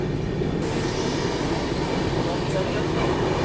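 The Gitanjali Superfast Express runs through Sevagram junction on the line toward Wardha, with a continuous rolling roar of wheels on rails, steady and fairly close, with faint squeals rising briefly above the rumble.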